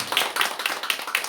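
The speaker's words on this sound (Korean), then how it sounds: "박수로 환영합시다." A church congregation claps in welcome: a brief, steady patter of hand claps at an even rhythm, moderately loud and close, with no one speaking over it.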